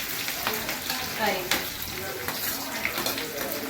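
Onion and garlic paste hits hot ghee and sizzles steadily, with crackling pops and the scrape of stirring, and a voice speaks faintly in the background.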